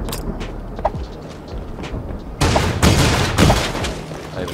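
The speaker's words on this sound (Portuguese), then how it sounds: "Aí você manda dois tiros seguidos" Shotgun fire in the video game Creative Destruction: a quieter stretch with a faint shot, then two rapid loud blasts in quick succession, a double pump, followed by a burst of dense gunfire and booms.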